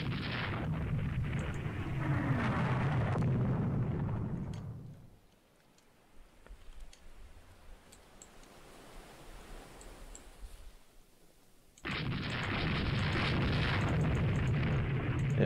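A torpedo strikes a warship in the naval strategy game Rule the Waves 2, a long roaring explosion rumble that dies to quiet for several seconds, then a second loud sustained blast bursts in and holds.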